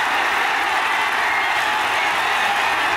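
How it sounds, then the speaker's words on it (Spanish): Dense, steady applause from a crowd at a takanakuy fight in Huasao, Cusco, a continuous broad wash of clapping at close range with no talk above it. "¡Fuerte los aplausos!"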